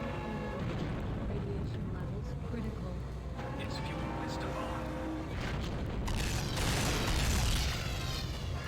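Missiles launching and detonating in 007 Nightfire, a dense run of deep booms and bursts over a steady low game rumble, building louder toward the end, with talk running underneath.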